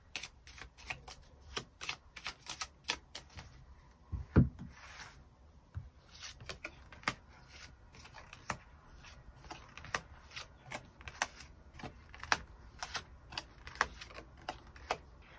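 Tarot cards are shuffled and drawn by hand close up: soft riffling and sliding of card stock broken by quiet, irregular flicks and taps as cards are laid down, with no talking.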